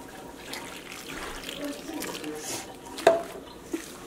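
Warm water trickles into shrimp empanada dough with salt in a kitchen, a soft pouring and splashing sound ending in a sharp clink, with faint movement around it.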